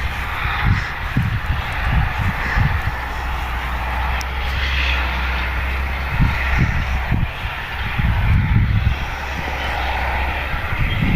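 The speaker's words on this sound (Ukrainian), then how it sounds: "Там десь е, трактор працює в полі." A tractor engine working in a distant field drones far off, a low steady rumble that swells and fades slightly with no voices nearby.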